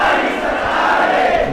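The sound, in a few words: crowd chanting a slogan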